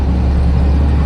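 A VW Type 3 engine pulls under throttle with a loud, close, steady low rumble for about a second as the car accelerates.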